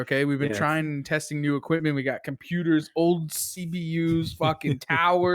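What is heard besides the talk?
None of the usual background noises is heard.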